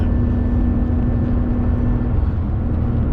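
Nissan R35 GT-R tuned to Stage 2 with 685 hp, engine held at a loud, steady high idle or rev with a constant droning tone and dense roar throughout, close by, with no talking.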